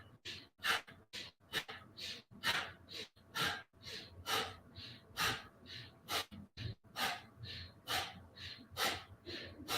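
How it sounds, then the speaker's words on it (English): Powerful yoga breaths come in strong, forceful inhales and exhales during shoulder shrugs, repeating in a quick, uneven rhythm, close and fairly loud. "Nice powerful breath."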